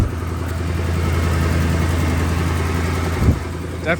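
An old car's engine idles steadily with an exhaust leak, heard up close with the hood open: a continuous low rumble that holds even, with a brief thump just past three seconds.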